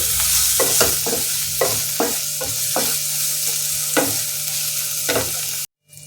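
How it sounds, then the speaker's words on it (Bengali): Onions and tomato fry in a kadai for a Bengali rui posto dish, a steady close sizzle broken by repeated scraping stirs of a spatula, then cutting off abruptly near the end. "টমেটো দিয়ে এটা একটু ভেজে নিই।"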